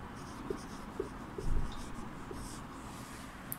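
Chalk or marker writing an answer on a classroom board during a Class VII Sanskrit lesson, a faint series of short scratchy strokes close by in a quiet room.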